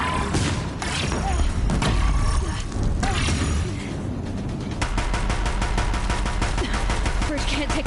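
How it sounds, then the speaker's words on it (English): Deathbringer machines in Horizon Zero Dawn pounding a bridge with dense, rapid gunfire, heavy thudding bursts rattling on continuously in the foreground. "If the Deathbringers keep firing, this bridge will go."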